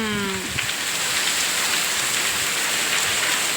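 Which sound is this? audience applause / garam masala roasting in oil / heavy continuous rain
heavy continuous rain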